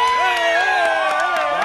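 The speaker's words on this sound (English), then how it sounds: "Tonight is a sold-out crowd, 700-plus people." Sold-out concert crowd of 700-plus at a Soulection Radio Tour show in Dallas, roaring and whooping continuously at close range with shouted voices and scattered claps rising through the din.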